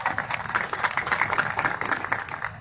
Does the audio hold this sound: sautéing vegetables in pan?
no